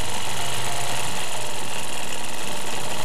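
A sewing machine runs steadily while stitching a mustache shape into a quilt, giving a continuous mechanical hum and buzz with no pauses and no voices.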